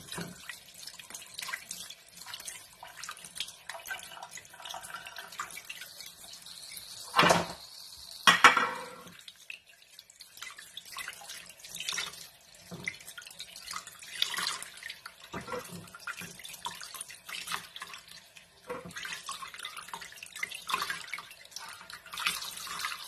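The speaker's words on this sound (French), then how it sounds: "Je vais les laver maintenant." Tap water runs into a kitchen sink as food is washed for a simple homemade recipe, a faint steady trickle and splash broken by clinks and brief louder gushes, heard close with no talking.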